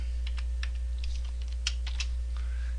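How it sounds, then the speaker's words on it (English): Typing on a computer keyboard while building a simple name and email form: irregular, close key clicks in short uneven bursts over a steady low hum, with no talking. "You can tell I don't type very well."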